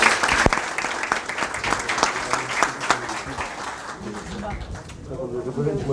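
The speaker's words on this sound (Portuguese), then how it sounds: "por favor, palmas para o Giba" An audience claps at a comedy show, the applause loud at first and then thinning out, with a voice speaking over the end.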